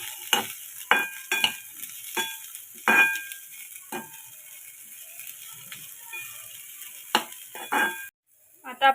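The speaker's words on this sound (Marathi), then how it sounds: "त्याच्यात आता आपण कोबी, गाजर, परतून घ्यायचं" Shredded cabbage and carrot being stirred in a pan with cooked onion for veg momo filling, a soft sizzle under repeated scraping and tossing strokes, close and fairly quiet.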